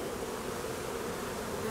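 A dense, continuous drone of many honeybees buzzing around a beehive, close and steady throughout, with no voices.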